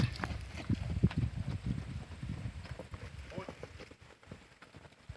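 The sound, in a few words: horse hooves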